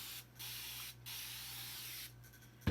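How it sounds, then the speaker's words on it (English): A spray bottle mists water onto a chalkboard in three long hissing bursts separated by short pauses, close and clear, ending with a brief knock. "Boy, that's spraying a lot tonight."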